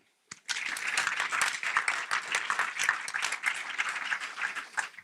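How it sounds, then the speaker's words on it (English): A room full of people bursts into a round of applause at a civic State of the Cities event held in a cinema, sharp dense clapping starting suddenly after a brief silence and holding steady to the end. "please join me in a round of applause to thank Independence Cinema for hosting this event."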